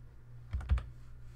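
Typing on a computer keyboard to enter a page number in Microsoft Word, heard as a short, quick cluster of three or four close keystrokes over a low steady hum.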